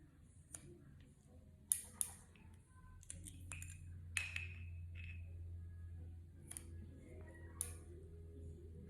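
Scissors snip a candle wick on a brand-new candle after its first burn, giving a few sharp, quiet clicks and snips spaced apart over a low steady hum.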